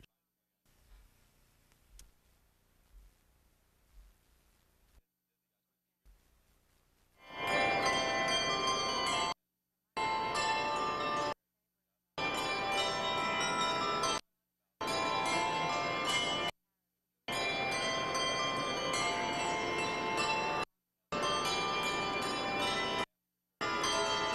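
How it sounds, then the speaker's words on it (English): Bell ringers ring bells at Union Station in December: a faint, murky stretch gives way to loud, ringing peals that repeat in bursts with short silent gaps between them. "those bell ringers were over at Union Station, just a short spot here yesterday"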